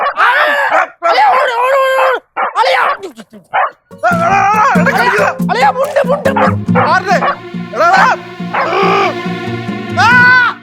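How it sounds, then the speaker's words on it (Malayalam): A dog barks and yips in short bursts near the microphone while children talk and shout, with a steady hum underneath. "പട്ടി പട്ടി പട്ടി."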